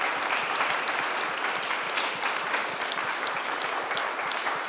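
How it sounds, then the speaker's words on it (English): Panelists at an evening panel discussion receive a full round of audience applause, dense and even, many hands clapping loudly and steadily with no break. "let's give a round of applause for our panelists"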